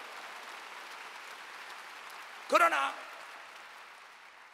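A large congregation at a church rally in a gymnasium applauds in a steady, distant wash of clapping, and a voice briefly speaks over it midway.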